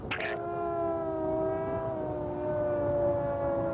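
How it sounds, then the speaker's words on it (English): A siren holds a long, steady wailing tone at moderate distance, slowly settling lower as it continues without voices. "As the siren dies away"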